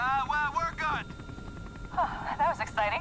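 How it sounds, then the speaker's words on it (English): Helicopter crash in the video game Outlast 2, heard as a low rotor rumble running underneath. Excited voices talk over it in bursts with brief quieter gaps between them. "Here's the helicopter crash I was talking about."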